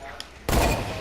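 A single hunting rifle shot in the Fortnite video game, one sharp loud blast with a short booming tail, preceded by a faint click.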